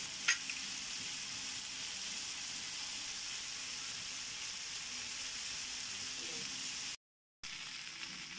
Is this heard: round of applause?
no